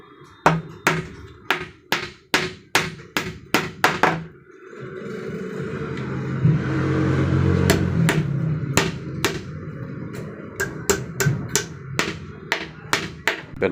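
Hammer blows driving nails into a cardboard box for a homemade egg incubator: rapid sharp taps in bursts, a pause filled with a low rumbling hum, then more steady hammering close up.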